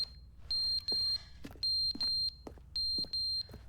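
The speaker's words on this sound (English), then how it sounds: "What the hell's beeping?" Electronic alarm beeping sounds indoors: quick high-pitched beeps in short bursts of three or four, repeating steadily, fairly faint with a little background noise.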